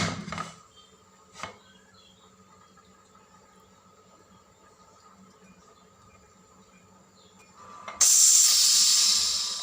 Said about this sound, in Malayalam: ഇനി നമുക്ക് കുക്കർ മൂടി വെച്ചിട്ട് ഒരു രണ്ട് വിസിലിങ്ങോട്ട് അടുപ്പിച്ചു